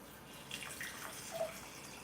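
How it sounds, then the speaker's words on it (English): Tap water runs into a container at a kitchen sink, a faint steady trickle with a few small splashy surges, heard alone. "Look, I'm gonna fill it up with water."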